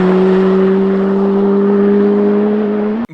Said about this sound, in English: And the sound on the Z06 is second to none